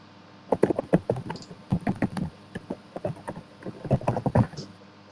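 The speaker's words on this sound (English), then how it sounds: "here he's typing it right here" Someone types on a computer keyboard, quick bursts of clattering keystrokes with short pauses between runs, close and clear, with no voices.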